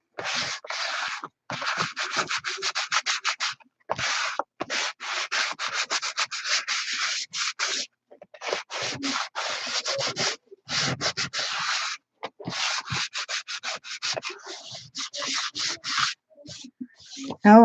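Hand sanding the shiny surface of a glue book page: rapid rhythmic scratchy rubbing strokes in short bursts, close and fairly loud, with brief pauses between runs.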